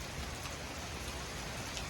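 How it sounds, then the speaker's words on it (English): Heavy rain during a supercell severe thunderstorm, a dense steady hiss of drops pounding surfaces, loud and continuous with no voices. "Here comes, I think the rain's picking up."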